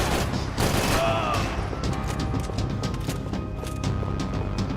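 Gunfire in the video game Max Payne 3: a dense burst of shots at the start gives way to scattered rapid firing over a noisy game soundscape, with faint voices.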